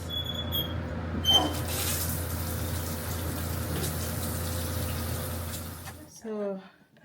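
Shower water pouring in a steady, even hiss for about six seconds, then stopping, followed by a few brief squeaks.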